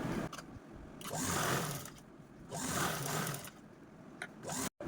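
A sewing machine stitches blouse fabric in steady whirring bursts, each running for a second or so and separated by brief pauses, close and moderately loud, with no voices.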